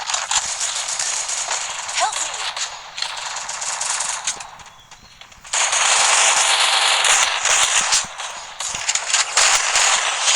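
Rapid bursts of automatic gunfire from the mobile battle royale game Free Fire Max, loud and dense with crackling rattles, a brief dip near the middle before a sustained volley resumes, under game sounds and a voice.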